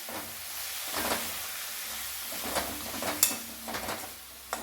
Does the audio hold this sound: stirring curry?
yes